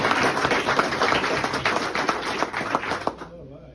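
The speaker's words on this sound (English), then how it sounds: "Y'all can clap that up." Clapping from the audience at First Sergeant Gregory Walker's military retirement ceremony: a dense, steady patter of many hands that lasts about three seconds and then stops sharply.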